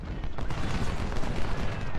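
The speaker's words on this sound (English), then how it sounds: "Actually, I have Carroll's Marauders fire on those guns" Dense, continuous gunfire from a strategy video game battle, with volleys of musket and cannon fire from artillery guns overlapping steadily at a loud, even level throughout, with no voices.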